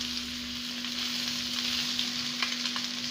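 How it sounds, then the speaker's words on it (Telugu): Fish fry sizzling steadily in hot oil, a dense continuous crackle and hiss close by with a constant hum underneath and no voices. "ఇది ఒక 10-15 minutes టైం తీసుకుంటుంది ఫ్రై అవటానికి."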